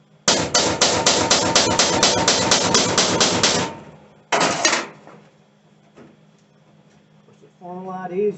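Rapid, loud hammer blows on heavy-gauge truck body metal during rust repair, a dense metallic burst of strikes for about three seconds, then a short second flurry, followed by quiet and a voice at the end.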